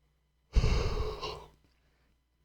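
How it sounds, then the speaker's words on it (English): One long, breathy human yawn lasts about a second, rising then fading out, close and fairly loud with no talking. "why am I yawning so much?"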